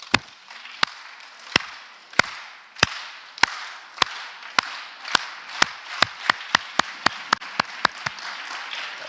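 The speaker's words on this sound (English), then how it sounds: "A round of applause." Rhythmic clapping after a school debate speech in Johannesburg, sharp loud claps that start slow and widely spaced, then speed up into a quicker, evenly paced beat.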